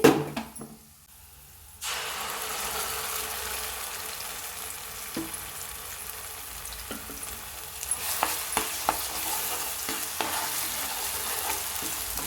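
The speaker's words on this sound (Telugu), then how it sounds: "బాగా కలపాలి రెండు నిమిషాల పాటు వేగనివ్వాలండి" A ground paste frying with already fried garlic and stirred in a pan: a loud steady sizzle begins after a short quiet start, with scattered scraping taps from the stirring near the end, no talking.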